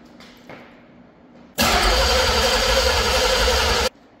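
350 TBI V8 engine being cranked with a little fuel poured down the throat; a quiet lead-in, then a loud, steady roar of cranking or brief running lasting about two seconds before it cuts off sharply.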